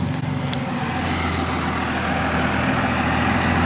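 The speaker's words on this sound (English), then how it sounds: "loud ass truck" A heavy truck engine rumbles steadily nearby, a low droning idle with road noise that grows slightly louder over several seconds.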